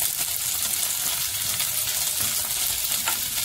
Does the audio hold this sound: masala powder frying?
yes